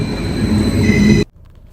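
Continuous rumble and hum of a train rolling on rails in Norway, loud and close, with a faint high whine, ending suddenly into near silence.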